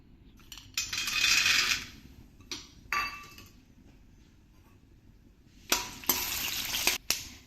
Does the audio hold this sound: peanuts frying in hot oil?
yes